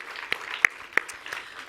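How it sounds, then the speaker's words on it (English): Scattered hand claps over a soft crowd wash, a few sharp claps standing out, sounding like a room starting a round of applause. "Big round of applause"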